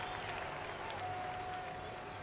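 Faint crowd clapping and cheering in Microsoft Flight Simulator after a flight test is passed, a steady, low-level wash of applause running the whole time with no break.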